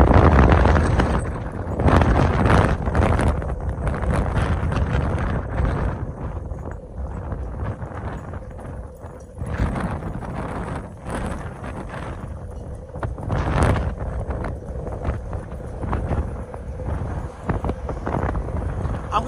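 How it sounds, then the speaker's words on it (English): Heavy wind buffeting a microphone on a windy downtown city street in Kansas City, loud rumbling gusts rising and falling continuously for the whole stretch. "because I know you guys gonna hear the wind"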